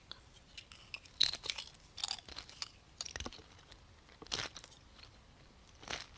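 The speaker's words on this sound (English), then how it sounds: "I'm about to crunch again, West." Crunchy bites into a cookie with sprinkles come in irregular sharp bursts, close to the mic, separated by quieter chewing.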